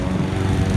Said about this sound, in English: this little Honda 160cc motor, it's kind of mowing through it